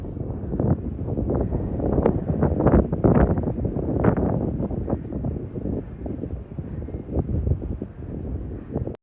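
Wind gusting outdoors along the Pacific Crest Trail in the desert section near the aqueduct, a steady rough rumble of buffeting air with shifting gusts, loud and continuous throughout with no talking.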